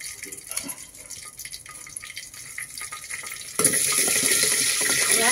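Cumin, mustard seeds and curry leaves hit hot oil in a village kitchen pan for a spicy black bean curry, a soft clattering at first, then a loud, steady sizzle that swells suddenly and holds to the end.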